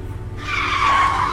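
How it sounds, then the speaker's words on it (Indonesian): A car brakes suddenly and its tires skid with a rising, close squeal that lasts over a second above a low engine rumble. "Kenapa ngerem mendadak begini?"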